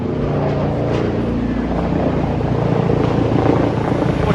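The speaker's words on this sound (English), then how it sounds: "Oh, a helicopter." Helicopter passing over a riverside bridge in Harrisburg, Pennsylvania, a continuous loud low rumbling drone that holds steady throughout, heard outdoors with no talking.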